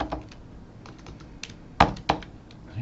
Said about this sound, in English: What is with my typing?